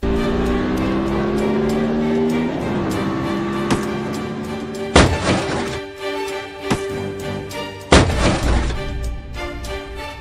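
A car and a motorcycle in a roadside clash in which the rider strikes the car's window and the car knocks the motorcycle over: a steady engine hum runs throughout, broken by two loud thuds midway and later.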